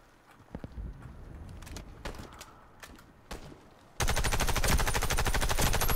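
Warface gunfire on PC: scattered sharp shots over game ambience, then a sudden loud, sustained burst of rapid automatic fire filling the final two seconds.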